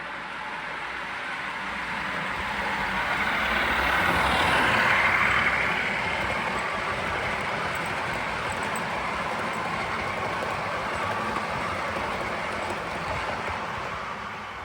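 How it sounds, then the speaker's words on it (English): A model Class 47 diesel locomotive's LokSound 5 sound chip gives a steady diesel engine drone with a broad rumbling hiss that swells slightly near the start and then holds constant, no voices present. "It runs on a Locksound 5 chip with Legoman Biffo sound for the 470 subclass"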